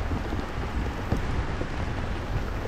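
Heavy rain falls outdoors as a dense, steady hiss that holds evenly throughout with no breaks and no voices.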